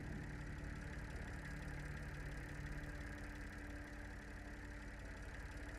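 A diesel generator engine in a shed, part of a video game, runs at a steady idle with a dense, continuous low drone and mechanical knock, close and unchanging throughout.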